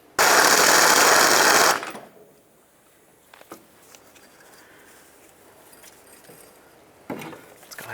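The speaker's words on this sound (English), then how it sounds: "Let's go ahead and fully remove that rear bolt." Loud burst of a power tool lasting about a second and a half while removing a rear bolt from a 1999-2003 Toyota Solara power steering pump, followed by quieter clinks and metallic handling sounds.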